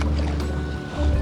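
Sailboat gliding along the sea off Sardinia under genoa and mainsail at about three knots with no engine running, a steady loud wash of water and wind rushing against the hull with no talking.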